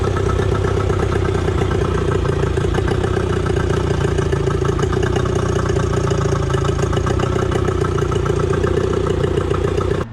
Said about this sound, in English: she's ready to be fired, and we'll see if she starts right up or not